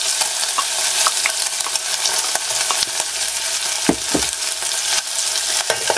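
Carrots go into a Trangia camping pan already holding bacon and sizzle loudly and close, with stirring scrapes and utensil knocks through it and no voices.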